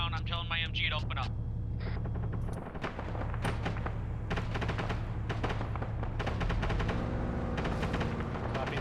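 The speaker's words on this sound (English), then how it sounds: "I'm telling my MG to open up" Machine gun fire during a firefight with insurgents around a town, loud rattling bursts and scattered shots running throughout, with people talking over radio mixed in.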